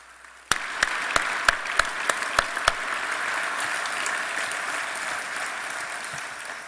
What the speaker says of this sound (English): So would you please give those people a big round of applause?